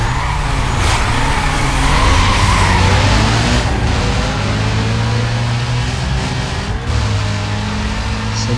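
A powerful car drifting in Need for Speed Most Wanted, its tires skidding in a long continuous squeal over a loud engine drone, close and unbroken.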